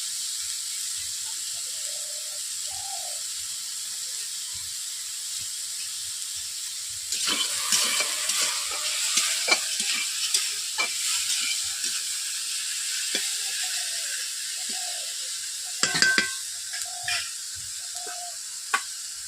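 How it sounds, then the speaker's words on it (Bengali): Mixed vegetables fry in a covered kadai with a steady, even sizzling hiss. Clusters of sharp scraping and clattering stir strokes cut in midway and again near the end. "সবজিগুলোকে ভেজে নেওয়ার জন্য।"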